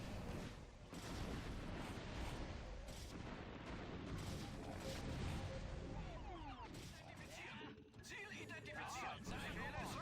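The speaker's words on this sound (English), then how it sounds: "Here's an example of losing the battle because a lot of tanks fire on the same unit" Siege tanks in StarCraft Remastered fire on the same unit in a battle, making a dense stream of booming artillery shots and explosions, loud and continuous, with a brief lull near the end.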